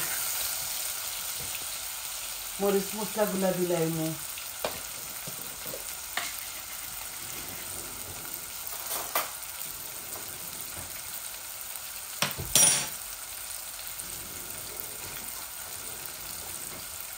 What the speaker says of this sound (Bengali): আমার পেঁয়াজগুলো একটু ভাজা ভাজা হোক